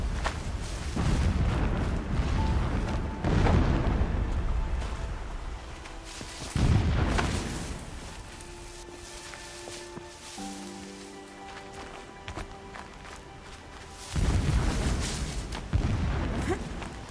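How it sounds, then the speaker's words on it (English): Distant explosions in the video game Horizon Zero Dawn roll in as heavy low booms, a few separate blasts spread across the stretch with quieter ambient sound and faint tones between them. "Explosions in the distance."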